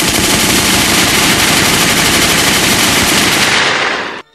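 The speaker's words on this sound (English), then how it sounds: "can we get a few gunshots?" Rapid, continuous automatic gunfire, loud and dense, rattling nonstop for about four seconds before cutting off abruptly.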